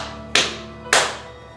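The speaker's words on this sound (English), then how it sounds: "I start banging on the floor like" Two hard knocks bang on a floor about half a second apart, each a loud close thud that rings briefly and fades, with no voices.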